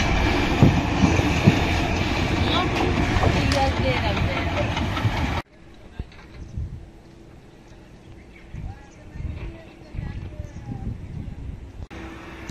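A train runs along the Khulna to Mongla railway, its steady loud rumble and wheel clatter filling the first half before dropping to a quieter, softer rolling hum with occasional clicks, while people talk nearby.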